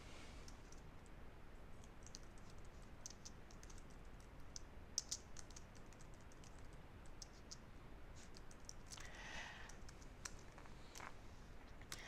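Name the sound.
typing on a computer keyboard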